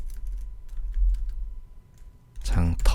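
Computer keyboard keys pressed while working in Photoshop, a few light clicks at first, then a short burst of louder typing near the end.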